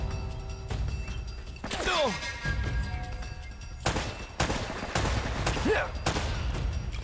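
Gunfire in Uncharted: Drake's Fortune, a dense exchange of overlapping gunshots and bursts with sharp cracks and ricochet-like whines, sustained throughout amid game ambience, with a voice talking over parts of it.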